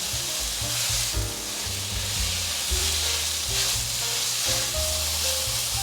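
Lotus root stir-fried with seasonings, a steady loud sizzle and crackle from the pan with light scraping of stirring, continuous and close, no voices.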